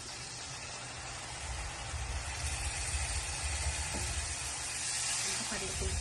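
Tamarind juice poured into a hot pan of Telugu-style fish curry base, giving a steady broadband hiss and sizzle that swells after a couple of seconds and holds, close and fairly loud throughout.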